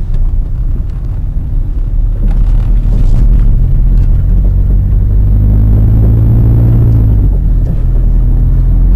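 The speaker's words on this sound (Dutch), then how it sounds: "Het verbruik is heel zuinig, het rijdt maar weinig toeren." A small 25 km/h microcar engine idles at low revs, giving a steady, loud, deep rumble throughout with no talk.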